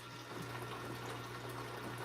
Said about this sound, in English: you can see how quickly it just starts pumping water right away